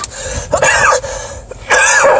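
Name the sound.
cough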